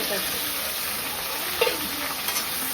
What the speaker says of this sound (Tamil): வெங்காயம் வதக்கும் போது இஞ்சி போட்டு கொஞ்சம் அதிகமா போடணும்